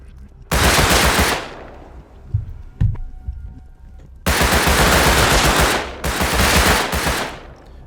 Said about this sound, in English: this new to Rust guy's hip firing too